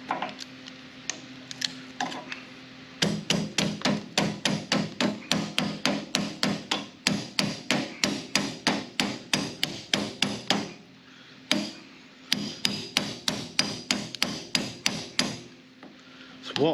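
Vice grips hammer on metal while an axle bushing is being worked. The strikes come in quick, steady, ringing runs, with brief pauses between the sets.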